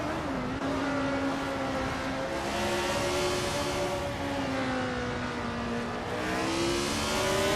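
A Ferrari 312 BB2 race car engine drones steadily in a racing video game, its pitch climbing and dropping gently through gear changes, loud and close with no talk.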